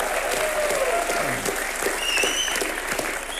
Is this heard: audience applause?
yes